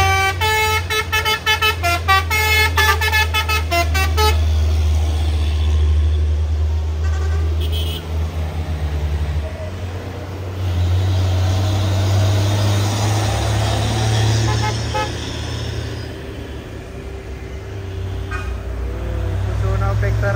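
A Fuso New Fighter trailer truck climbs a steep hill at speed, its engine droning loud and steady throughout, with a horn sounding in repeated toots early on and speech over the noise.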